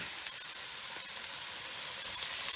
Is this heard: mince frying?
yes